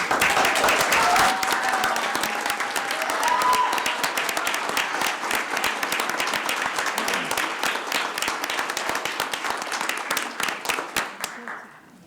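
Audience at a city council meeting applauding warmly, a dense, steady round of clapping with a few cheers that thins into scattered claps before stopping abruptly.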